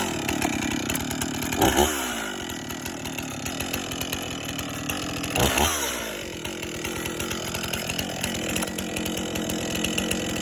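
Chainsaw bucking a log with a plunge cut, engine running steadily and loud throughout, with two brief revving surges as the bar bites into the wood.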